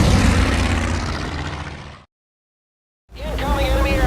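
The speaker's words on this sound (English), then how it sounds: "Incoming enemy aircraft." Enemy aircraft approaching in Battlestations: Midway during the attack on Pearl Harbor, a loud droning roar of propeller engines that cuts out abruptly for a second, then returns with shouted voices over it.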